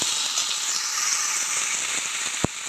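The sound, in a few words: vegetables frying in a pan with panch phoron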